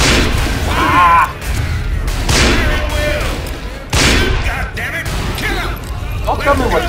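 Gunfire in the video game Call of Juarez Bound in Blood, loud repeated booming shots and bursts with mechanical clatter, mixed with a player talking over the action.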